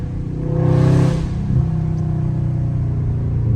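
A Dodge Challenger or Charger Scat Pack V8 revs while spinning donuts on a wet road in the rain, a loud rumbling engine swelling and easing with steady low drone throughout, close by and alone.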